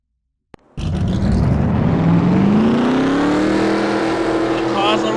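NASCAR Nationwide Series race car engines fire up after a brief click, then a loud rising roar of many engines revving together, sustained and close.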